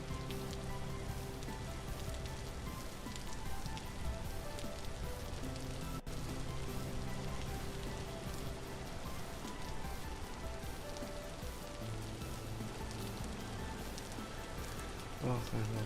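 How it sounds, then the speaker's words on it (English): Steady rain falls in the Vintage Story video game as an even, dense patter that goes on for the whole stretch, with soft background music mixed in. "Rain sounds."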